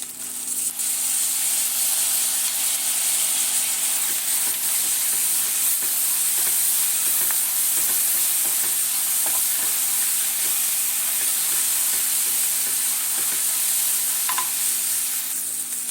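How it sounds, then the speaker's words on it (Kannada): Chopped tomato tipped into well-fried onions for a white pulao, hissing loudly and continuously in the pan with faint stirring clicks throughout, close and alone with no talk. "ಈರುಳ್ಳಿ ಚೆನ್ನಾಗಿ ಫ್ರೈ ಆಗಿದೆ ಈಗ ಒಂದೇ ಒಂದು ಟೊಮೊಟೊನ ಕಟ್ ಮಾಡಿಟ್ಟಿದ್ದೀನಿ ಅದು ಸೇರಿಸ್ಕೊಳ್ಳಿ"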